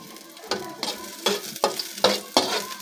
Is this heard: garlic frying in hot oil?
yes